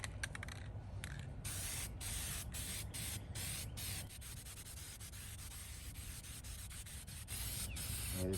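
Aerosol spray paint hisses steadily in repeated long bursts over the cage of a 1955 Westinghouse fan, rough and badly pitted, with brief pauses between passes and no talking.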